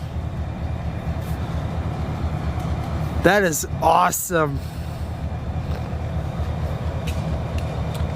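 ELS freight locomotives switch cars at a log yard in Beecher, Wisconsin, a steady low rail rumble throughout, with a voice speaking briefly in the middle.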